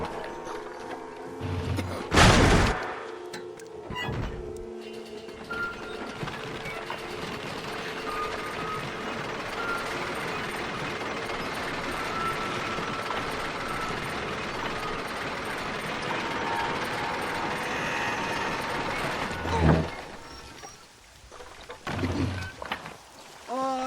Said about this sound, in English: Load up and I'll engage the gears.